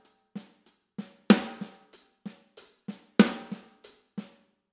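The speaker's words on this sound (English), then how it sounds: "The first note of each of those numbers is going to be an accent on the snare drum" Accented snare drum strokes in a drum lesson on a rock groove, sharp loud cracks landing on the first note of each phrase, with softer unaccented drum notes and kick hits in a steady pattern between them, played alone with no talk.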